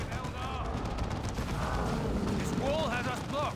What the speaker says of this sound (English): There is, of course, a default turret on the Bastion there, firing away.